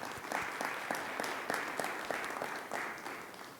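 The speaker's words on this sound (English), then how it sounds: "Let's give them a round of applause." Audience applause fills a town hall meeting of the Huron Valley Schools, a steady dense patter of many hands clapping at moderate loudness and holding through to the end.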